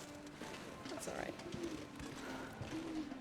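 Birds coo and call in the wilderness of The Long Dark video game, soft dove-like coos and a few chirps, faint and distant under ambient wind and a speaking voice.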